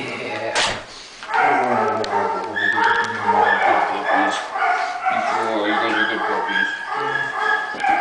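Several pit bull puppies yip, bark and whimper in quick, high-pitched bursts close by, with some speech mixed in.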